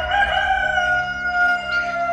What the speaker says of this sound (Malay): kokokkan ayam jantan berkumandang